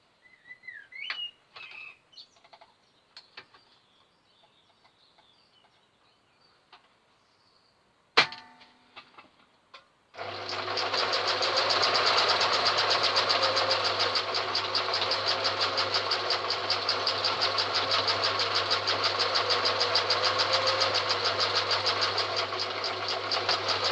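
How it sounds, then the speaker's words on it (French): A sewing machine stitches along a traced line on a fabric face mask, first with a few soft handling clicks, then a loud, steady rapid motor buzz that runs without a break. "Et c'est reparti, pareil, on coud selon le tracé."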